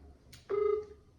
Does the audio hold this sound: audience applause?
no